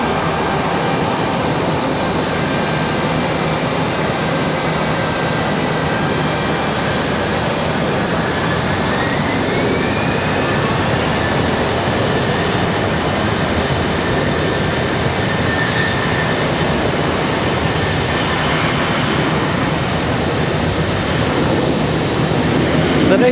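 An Airbus A319 jet departs Charlotte Douglas International, a loud sustained engine roar and rumble holding steady throughout, with a faint rising whine partway through.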